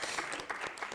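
A poetry recitation audience at a community center applauds, a dense, steady wash of many hands clapping at moderate distance, continuous and even throughout.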